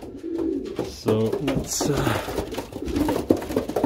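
Pigeons in a breeding loft coo in low, soft bursts beneath close speech, with other birds faintly audible around them.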